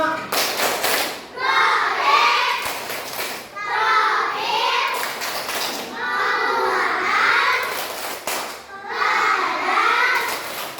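Elementary schoolchildren in a classroom performing the P5 clap chant, with children's voices chanting in unison and rhythmic clapping, repeated in four loud, evenly spaced phrases separated by short pauses.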